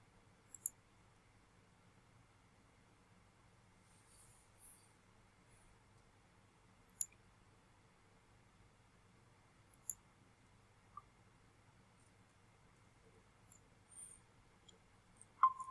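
Several sharp computer mouse clicks, spaced irregularly and fairly faint, used to open and join Google Meet breakout room links, over a low steady background hum.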